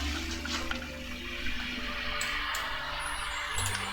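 A gushing, flushing water sound effect from the video game Alxemy, loud and steady throughout with bright splashy detail and no talking.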